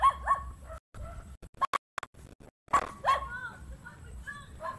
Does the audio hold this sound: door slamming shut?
no